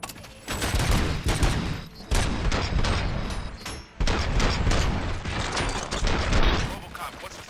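Rapid bursts of gunfire in the video game RoboCop: Rogue City, loud overlapping volleys that cut off abruptly around the two- and four-second marks and then resume, with mechanical clatter mixed in.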